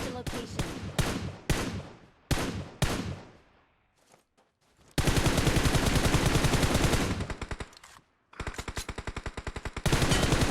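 Automatic gunfire in the PUBG Mobile battle royale game: rapid bursts of shots up close, a pause, then a long sustained string of loud rounds and another burst near the end.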